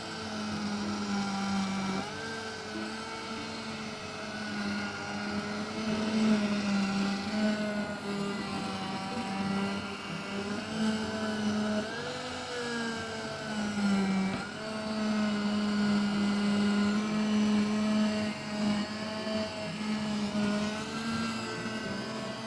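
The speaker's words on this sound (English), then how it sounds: "Here's my immersion blender, stick blender." An immersion stick blender whirs steadily through a pot of carrot dill soup, a continuous motor drone with shifting pitch as it churns, close and fairly loud throughout.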